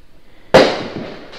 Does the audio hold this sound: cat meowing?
no